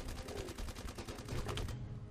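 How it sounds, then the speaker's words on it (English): Rapid gunfire in the Xenowerk video game, a dense, fast rhythmic stream of shots running continuously and loud before tailing off at the very end. "My gun's overheating."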